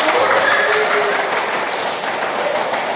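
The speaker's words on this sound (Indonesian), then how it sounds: "Boleh kita tepuk tangannya?" Dense, steady clapping from a classroom or school audience at a presentation on Pancasila learning values, filling the whole three seconds at an even, fairly loud level with no clear pauses.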